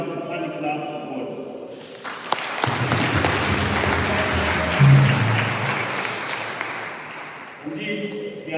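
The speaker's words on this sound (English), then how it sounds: "Please join me to give a very well-deserved hand clap of God." A church congregation breaks into sustained hand clapping at a Holy Cross final vows celebration in East Africa, a loud, dense wave of many people applauding that rises, holds for several seconds, then fades, with voices around it.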